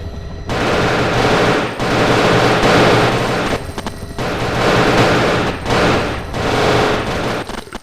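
Gunfire in a video game: loud, close bursts of rapid automatic fire in several long volleys separated by short pauses.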